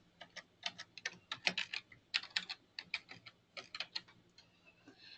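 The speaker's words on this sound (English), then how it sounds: "Once it's open, start typing in the information." Rapid typing on a computer keyboard, quick irregular bursts of close, crisp key clicks with short pauses, heard alone in a quiet room.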